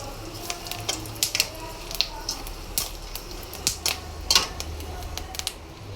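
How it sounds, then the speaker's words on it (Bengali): Dried red chilies and bay leaves tempering in hot oil for a banana flower dish, a low steady sizzle broken by scattered sharp crackles and pops close by, with no talk over it. "প্রথমে শুকনো মরিচ আর তেজপাতা ফোড়ন"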